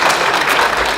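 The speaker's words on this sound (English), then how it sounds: "Can we give another round of applause to our governor and" Audience applause for a governor at a regional working summit, a brief, loud wash of dense clapping heard close and steady throughout.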